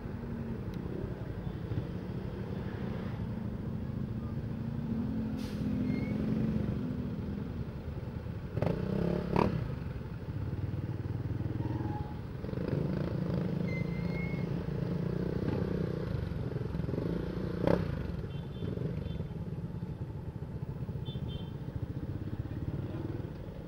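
Road traffic in Batangas, with motorcycles and trucks rumbling past at moderate distance, a steady low engine drone broken by a few brief clattering bumps and passing revs over about twenty seconds.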